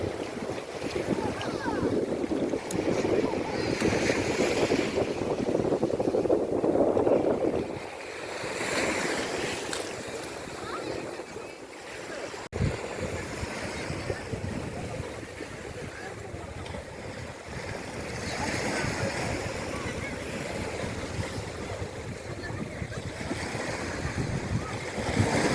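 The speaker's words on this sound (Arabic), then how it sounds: "هذا اليوم هاي شويه تسمعوا صوت البحر." Sea surf washing against a rocky shore, a continuous rushing wash with swelling surges and heavy wind buffeting the microphone, steady and fairly close throughout.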